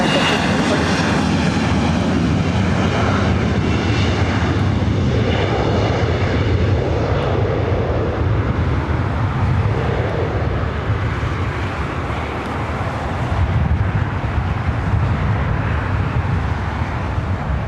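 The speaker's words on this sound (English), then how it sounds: "737 MAX 8 is our next arrival." Boeing 737 MAX 8 airliner arriving at LAX: a steady, loud jet engine roar and rushing wind that holds throughout, swelling and fading slightly as the aircraft passes.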